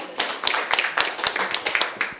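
A small audience applauds Mbak Nurul after her talk at a political discussion event, scattered hand claps in a steady, moderately close patter for a couple of seconds.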